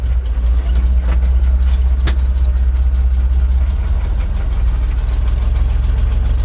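A GMC 478 big block V-6 idles steadily nearby, a deep low rumble with a slightly uneven knocking pulse and a few faint clicks over it, no voices.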